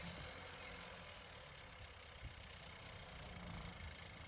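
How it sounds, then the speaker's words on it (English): The 1.4 petrol engine of an Audi Q3 idling after an oil service, a steady, faint hum and rumble with constant vibration and no change in pitch, alone with no talk. "we're going to put the lid back on and run the engine for approximately 5 minutes."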